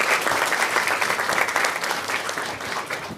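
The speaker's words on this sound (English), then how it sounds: "Give a huge round of applause, sir." A crowd at an International Women's Day tech community event claps in a sustained, loud round of applause, a thick continuous patter that holds steady with no speech on top.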